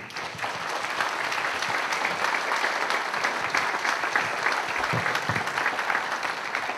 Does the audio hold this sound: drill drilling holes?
no